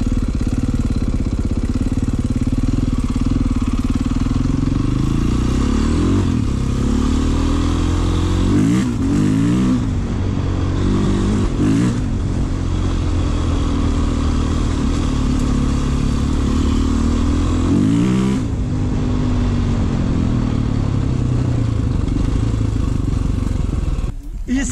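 A Honda CRF 230 trail motorcycle revs hard out on a dirt trail: a loud, close engine roar that climbs and falls in pitch, with several sharp throttle blips throughout.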